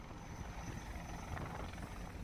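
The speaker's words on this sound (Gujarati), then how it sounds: "હેલિકોપ્ટરની મદદથી પણ આ માછીમારોને શોધવાનો પ્રયાસ થઈ રહ્યો છે" A search and rescue helicopter hovers over the sea off the Gir Somnath coast, a steady, fairly faint rotor drone with low rhythmic thudding and no voices.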